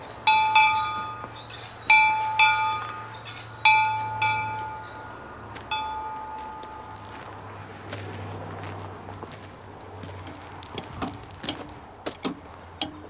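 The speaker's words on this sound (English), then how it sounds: "she's ringing the bell" A train bell clangs several times at regular intervals, each strike ringing out and fading, then gives way to rattling, clattering train sounds near the Buffalo Mine in Butte.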